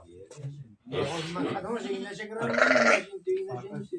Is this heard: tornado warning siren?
no